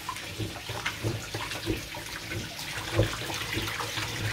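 Water runs from a kitchen sink tap while food is being washed, a steady gentle splashing stream, close and fairly quiet.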